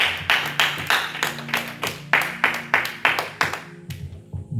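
Congregation at a church service clapping in a steady rhythmic beat, roughly two claps per second, fairly close and lively, with a faint voice underneath before the clapping thins out at the end.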